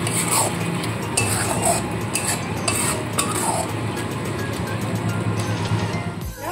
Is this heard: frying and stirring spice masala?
yes